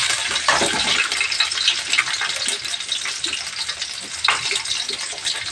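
Green chillies and curry leaves fry in hot oil in a pan for drumstick-leaf sambar, giving a loud, continuous crackling sizzle with a few brief surges of spattering.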